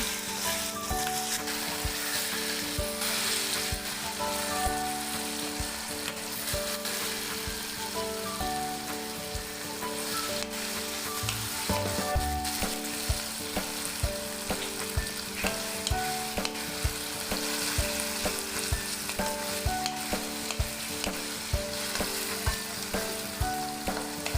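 Seasoned bangus in a pan, a continuous crackling sizzle throughout with stirring and scraping clatter mixed in, steady and fairly close, with no talk.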